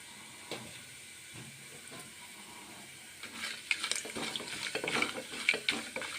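Whole garam masala spices dropped into hot oil: after a quiet stretch with faint clinks, a soft hissing sizzle rises and continues with small crackles and pops, moderately close.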